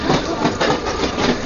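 Steady loud rumble and rattle of a moving Indian local commuter train heard from inside a carriage, with rhythmic clatter of wheels on track continuing throughout and no clear speech.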